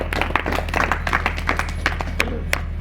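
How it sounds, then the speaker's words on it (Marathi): A speaker at a devotional gathering claps hands, a run of sharp, evenly repeated claps close by over a steady low hum, with no talking during it. "टाळ्या वाजवतो तुमच्यासाठी"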